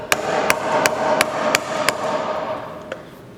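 Mallet blows driving a chisel into wood to chop out a mortise corner, seven sharp, evenly spaced knocks close up, the last one coming after a short pause.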